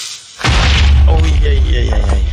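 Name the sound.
Minecraft creeper exploding in a video game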